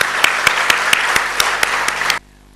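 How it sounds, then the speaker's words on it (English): Audience applause for Amitabh Bachchan at an evening event, a loud, dense burst of many hands clapping with sharp individual claps standing out, then cutting off abruptly into near silence. "who I think deserves a huge round of applause"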